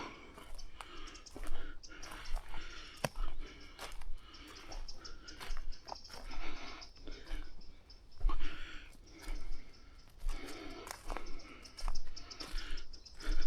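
Tiny birds twittering outdoors in faint, scattered chirps and short trills, with soft clicks and rustling in the background.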